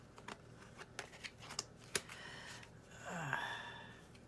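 Tarot cards being shuffled by hand, a series of soft riffling taps and flicks in a quiet room, followed by a brief breathy sound.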